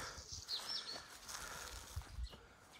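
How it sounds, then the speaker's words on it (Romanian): Small birds sing outdoors in a rural village garden in April, a few high, thin chirps and brief trills heard at a distance among quiet background rustling. "Auzi păsăricile. Ce fain cântă."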